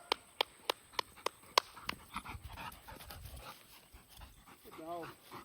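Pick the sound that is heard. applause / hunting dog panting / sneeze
hunting dog panting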